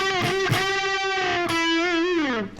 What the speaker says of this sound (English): We're going to start off with this unison bend idea 4 times